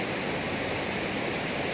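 A strong current on the Cantingas River, swollen after days of repeated rain, rushes past as a dense, steady roar of flowing water with no pauses or voices.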